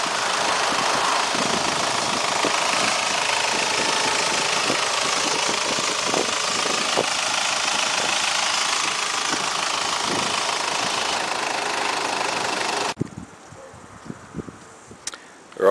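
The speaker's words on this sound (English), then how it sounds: "It's got the 1KZ 3-litre turbo engine." A 1995 Toyota Granvia's 1KZ 3-litre turbo diesel idles with a steady, rough knocking clatter close up, running loud and continuous before dropping suddenly near the end.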